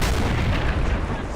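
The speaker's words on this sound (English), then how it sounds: "one of those was a tank firing" Tank cannon fire in the war strategy game Men of War: Assault Squad 2, a loud dense blast with heavy low rumble filling the whole moment, close and overwhelming, with no voices.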